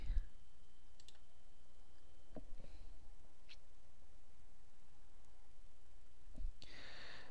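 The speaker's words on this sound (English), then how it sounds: "Now, when I click OK," Mouse clicks on an OK button in ScrumWorks Pro software, several small dry clicks scattered over a steady low room hiss, close and faint, with no talking.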